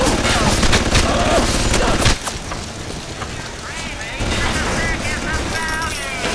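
Rapid automatic gunfire from an auto turret in the BioShock video game, a dense burst up front that fades into lighter shots and game effects, with a voice talking over it.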